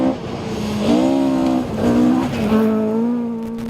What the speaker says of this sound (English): Dermody was pushing the RS 1800 Escort to be leading the East Coast Classic Rally